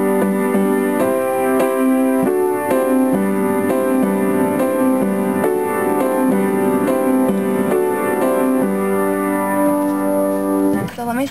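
A piano plays the intro, sustained chords and a melodic line ringing steadily and close for about eleven seconds with no talking, ending with a brief dip.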